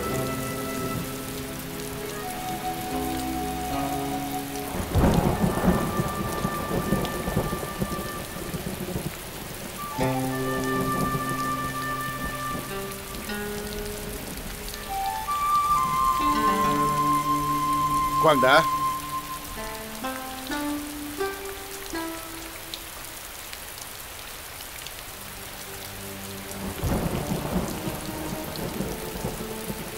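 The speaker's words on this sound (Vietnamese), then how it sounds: "ngoài này mưa gió lạnh lắm." Steady outdoor rain hisses throughout, with a few heavier thunder rumbles in a storm, while dramatic music plays and a voice speaks briefly.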